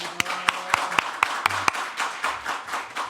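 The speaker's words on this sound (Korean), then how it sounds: "우리 인사하고 박수로 환영하겠습니다." A church congregation claps in welcome for a returning military missionary, sharp individual claps at first, then settling into a softer, steady rhythm of hands.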